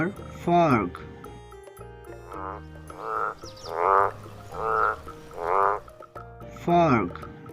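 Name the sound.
frog croaking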